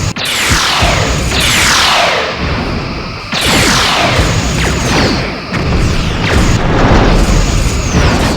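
Repeated heavy booms and bursts from photon torpedoes launching and striking a massive Romulan warbird in Star Trek: Bridge Commander, roughly four loud blasts with sweeping decays, continuous and close.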